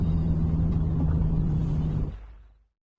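A car's engine rumbles steadily with a low hum, then fades quickly as the car pulls away and drops to silence, heard alone as a scene in a film.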